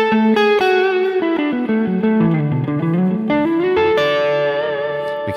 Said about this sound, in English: Let's turn the reverb on.